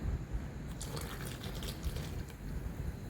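Water rinsed from a mixer jar pours and splashes in a short, close stream, with faint dripping and trickling as it runs out.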